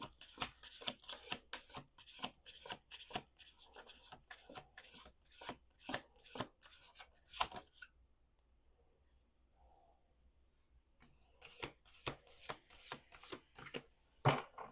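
Repeated riffle shuffles of a deck of cards, rapid crisp bursts in a steady rhythm, a quiet pause in the middle, then more shuffling, close and alone.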